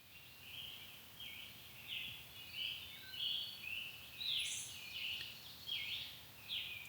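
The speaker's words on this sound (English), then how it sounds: "Listen to the birds." Birds sing in the early morning along the Appalachian Trail, a steady run of high chirping phrases repeating every second or so, soft and somewhat distant over a quiet, still background.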